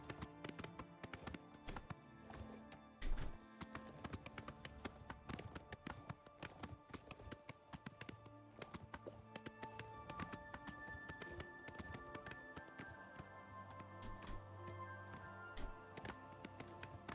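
In the video game Oblivion Remastered, a horse gallops across mountain terrain with a steady, rapid clatter of hooves. The hoofbeats are close and continuous, with occasional sharper knocks, over a dense game soundscape.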